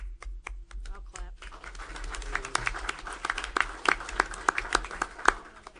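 People clap at a public meeting, a few scattered claps first that thicken into modest, moderately quiet applause that continues steadily to the end.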